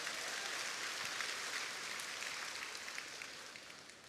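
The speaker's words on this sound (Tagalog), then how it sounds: "Pumalakpak nga yung hindi alipin ng pera" A church congregation claps through a sermon, a dense, steady wash of many hands sustained for several seconds and tapering slightly toward the end, with no voices standing out over it.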